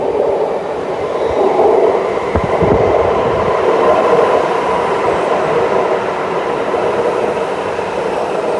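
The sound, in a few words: Sydney Metro train arriving at station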